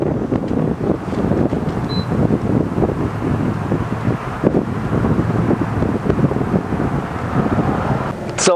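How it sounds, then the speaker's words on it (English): Strong wind buffets the microphone outdoors at a gas station, making a loud, continuous low roar with uneven gusts throughout. No voices are heard. "It's very windy out here"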